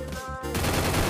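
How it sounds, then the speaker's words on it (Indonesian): A rapid burst of gunfire in a Free Fire video game crackles continuously, dense and loud, as if from automatic weapons. "Ada bunyi tembakan."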